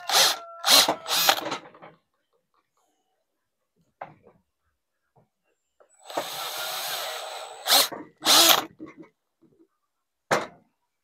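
A power drill whirs into aluminum on a chainsaw during a Heli-coil repair, one steady burst lasting under two seconds, surrounded by short sharp hissing bursts and quiet pauses.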